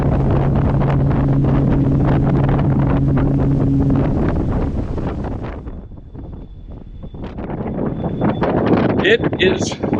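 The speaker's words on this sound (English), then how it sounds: "It is a very windy day" Strong wind buffets the microphone aboard a ferry at sea, a loud rushing roar over a steady engine drone that eases off midway, with faint voices toward the end.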